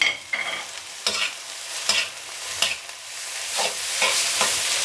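Glass noodles and seasoning stir-fried in a pan over low heat, giving a steady crackling sizzle broken by repeated sharp scraping strokes of a utensil, close and fairly loud.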